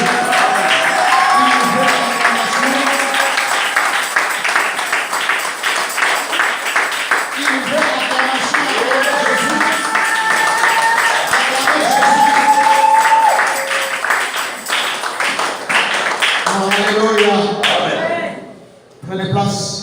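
A church congregation cheers and claps for Jesus during a worship service, a sustained, loud mass of voices and applause that continues for most of the span before it suddenly drops away near the end.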